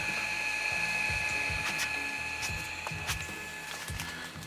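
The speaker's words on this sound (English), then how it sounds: "You can hear like the little fans in the back running." A faint steady whir of small cooling fans in a Mitsubishi 3000GT, with thin high tones, under irregular clicking and ticking mechanical noises.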